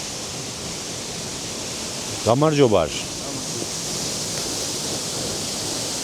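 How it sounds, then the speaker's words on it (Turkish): Waterfall near Tbilisi fortress in Georgia, a steady broadband rushing roar throughout, briefly overlaid by a short spoken word. "Ha işte şelale burası."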